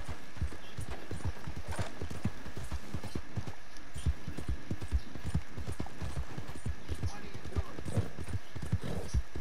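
Steady clip-clop of horse hooves trotting at a brisk, even rhythm in Red Dead Redemption 2, close and continuous, with faint background ambience.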